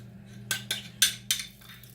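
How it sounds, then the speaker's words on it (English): Four short scraping strokes as a utensil pries a pumpkin spiced waffle, made from pancake mix, out of a waffle maker, each scrape a brief bright rasp over a steady low hum. "I'm going to scrape this out."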